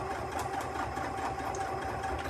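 A sewing machine fitted with an edge guide foot stitches fabric held along the guide, giving a continuous close mechanical hum with a fine rapid needle rhythm throughout and no speech.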